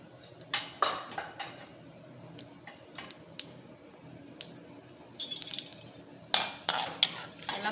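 Mustard seeds, urad dal and chana dal fry in a pan, throwing out scattered sharp pops and crackles, some in quick bursts, over a faint low sizzle with no talk.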